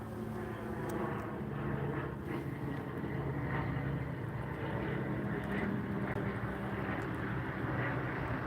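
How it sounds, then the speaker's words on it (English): A fixed-wing airplane flies overhead, its steady engine drone holding at an even level throughout, moderately distant with no talk over it. "Ooh, look, everybody, airplane."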